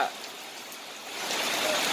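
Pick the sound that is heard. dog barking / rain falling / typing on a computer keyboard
rain falling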